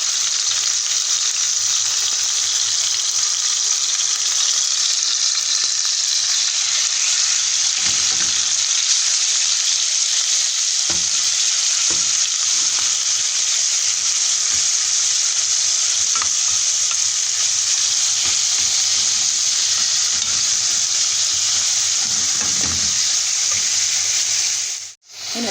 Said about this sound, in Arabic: الزيت سخن، نزلت بالفراخ اللي انا مقطعاها مربعات تاخد صدمه.